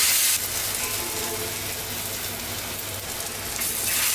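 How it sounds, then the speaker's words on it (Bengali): Battered eggplant and potato chops fry in hot oil, producing a steady, close, crackling sizzle with no talk. "হিট কম দিয়ে ভাজতে হবে, তেলটা ভালো করে গরম হবে।"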